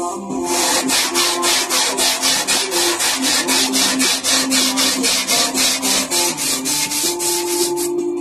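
Sandpaper is rubbed rhythmically back and forth over a part being prepared for painting on a 2012 Honda Fan 125 motorcycle, producing loud, close, evenly paced scraping strokes with no one talking.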